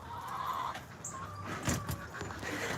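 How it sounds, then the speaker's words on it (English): Chickens on a rural property cluck faintly and insistently, a few brief calls over a quiet outdoor background hum, with no talking. "Do you hear the demands these chickens are putting out?"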